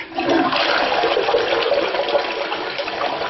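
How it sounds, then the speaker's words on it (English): A toilet being flushed during a plumbing dye test, with dye added to the bowl: a loud, close, continuous rushing swirl of water fills the whole stretch without any talking. "We go ahead and put some dye in the toilet, and then we give it a good flush."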